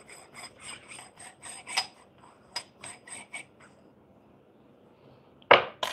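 The second chamber of a Quick Mill Super Quick grinder is unscrewed by hand. A series of soft, rhythmic rasping scrapes is followed by quiet, then a sharp louder clack near the end.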